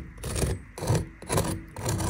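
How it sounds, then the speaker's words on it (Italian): The crispy crust of baked potato-like bites is tapped and rubbed in four short, crunchy scraping bursts, close up and soft, with no talking. "Senti che crosticina!"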